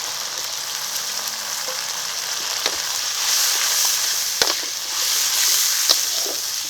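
Spice paste with mustard, chili, tomato purée, salt and turmeric fries for a fish curry in a pan, giving a loud, steady close sizzle with a few sharp clicks of the spatula.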